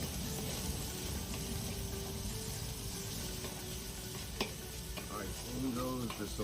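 Onions, garlic and red pepper sautéing in oil from an anchovy can for Spanish paella, a steady close sizzle with a few stirring clatters near the end.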